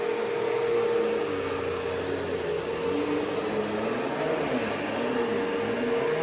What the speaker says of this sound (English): We're going to vacuum this way now.